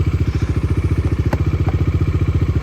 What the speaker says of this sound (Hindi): अब बाइक मैंने ऑन कर दी है